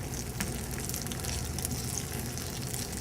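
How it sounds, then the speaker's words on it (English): Pierogies sizzle and fry in an oiled pan after being stirred to coat them, a steady, close crackling hiss throughout with no voices. "Put the pierogies in here. Stir them around a little bit to get them coated."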